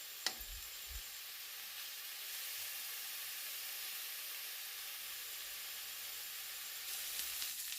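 Okra frying in oil in a pan, a steady close sizzle and hiss throughout, opening with a couple of light clanks, with a brief stir near the end and no talking.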